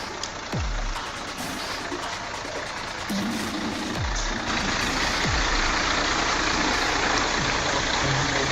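A Mercedes Actros truck hauling logs up a steep slope labors with a steady, heavy engine roar that holds at full strain throughout, nearby and unbroken, with brief higher tones cutting in now and then.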